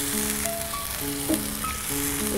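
Food sautés in a pan on a gas stove in a home-style kitchen, a steady close sizzle with light stirring, while faint tonal background sounds run underneath and no one speaks.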